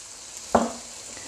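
Chopped garlic dropped into a hot pan with roughly chopped onion and fried chicken, a sudden close sizzle that flares briefly and then settles into a steady soft frying hiss.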